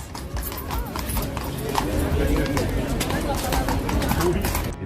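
Horse hooves clip-clop steadily near a gate, a dense run of close hoof strikes with a brief whinny, while people talk loudly over the scene.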